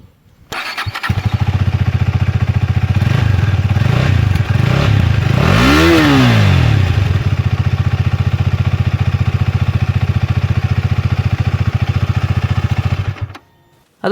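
A KTM Duke 250 BS6 motorcycle idles with a steady, loud single-cylinder exhaust thrum, then blips the throttle once in a quick rising and falling rev before settling back to idle and cutting off.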